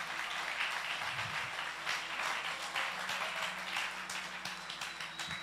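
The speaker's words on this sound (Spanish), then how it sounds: "Dale un fuerte aplauso al Señor" A church congregation applauds during a Spanish-language service, with dense clapping that carries on steadily at moderate volume throughout, and no speech over it.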